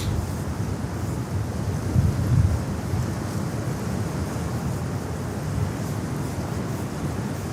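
Gusty wind at JFK airport during an arctic blast, a continuous low rumbling rush with buffeting against the microphone, swelling slightly in one gust, with no talk.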